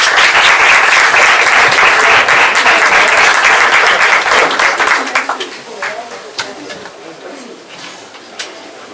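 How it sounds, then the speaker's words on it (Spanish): A Spanish workshop audience gives loud, dense applause before a flamenco performance, holding strong for several seconds, then thinning into scattered claps and fading, with a few birds cooing faintly in the background. "Les damos un aplauso y ya que empiecen ellos"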